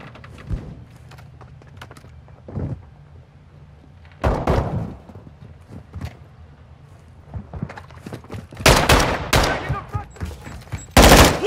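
Machine gun fire in Call of Duty Modern Warfare 2 multiplayer on PS5, loud irregular bursts of shots and impacts that grow denser toward the end, with faint speech now and then.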